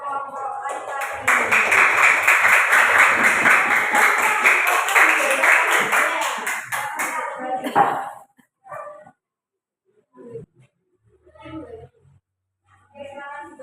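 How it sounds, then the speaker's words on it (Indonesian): A classroom of pupils claps together in a quick, even rhythm for a group of boys, loud and close for several seconds, then stops abruptly as a teacher and students begin talking. "Tepuk tangan untuk kelompok laki-laki."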